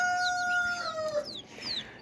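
Chickens with young chicks call in a clear, close series of chirps and clucks, several overlapping rising calls over a couple of seconds, with no talk.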